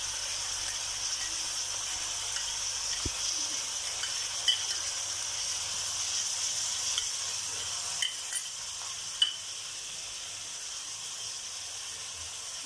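Ginger garlic paste sizzles steadily in a hot pan, a constant bright hiss with a few soft pops and clicks, heard alone and fairly close.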